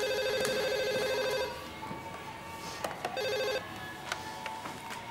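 A telephone bell rings in two short bursts, with a quieter stretch of room noise between them.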